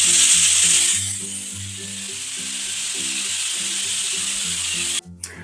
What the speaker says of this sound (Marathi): आपण कुकरला एक शिट्टी होऊ दिलेली आहे